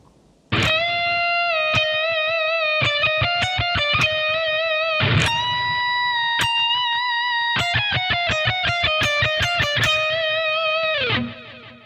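Electric guitar picks a main theme slowly with strict alternate picking, a distorted tone ringing through a run of sustained and repeated notes, loud and steady before cutting off.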